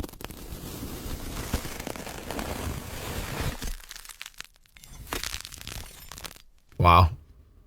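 AI-generated ASMR of devil fruits being cut: close crunchy crinkles and cracks with some speech mixed in, then quieter scattered snaps and one sharp loud crunch near the end.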